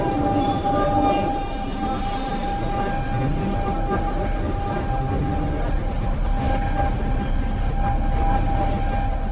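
A Bangkok Skytrain rumbles past near Siam Square with a steady roar and a high whining tone, loud and continuous over about nine seconds.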